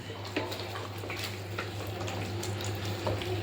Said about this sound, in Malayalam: 1 കപ്പ് ചൂടുവെള്ളം ഇതിലേക്ക് ഒഴിച്ചു കൊടുക്കാം